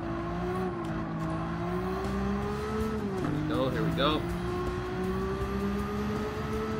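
A Nissan Skyline race car in Gran Turismo 7 holds a steady engine drone, with a brief burst of tire squeal in the middle and a person talking over it.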